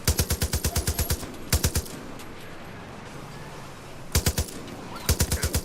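Rapid bursts of automatic gunfire in the video game Far Cry New Dawn, short sharp rattling volleys repeating several times over a steady background of ambient game noise.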